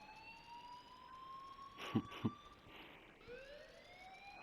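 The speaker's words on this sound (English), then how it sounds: "please turn off that alarm since that's your job" Alarm in the video game Life Is Strange, a faint wailing tone with slowly sliding pitch and a couple of short thumps in the middle, distant and quiet.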